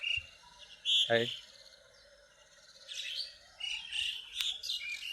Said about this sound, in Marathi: हे माझे पक्षी पहा